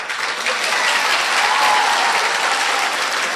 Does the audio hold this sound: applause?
yes